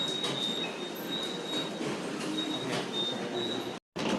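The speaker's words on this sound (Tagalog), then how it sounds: "Ayan, may dumana ng train." A train pulling into a station platform on the way to Everland in South Korea, rumbling steadily on the rails with thin high wheel squeals running over it, loud and close, then a brief cutoff at the end.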